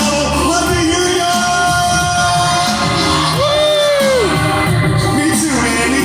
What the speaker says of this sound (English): Alright, Universal City, I want to hear you cheer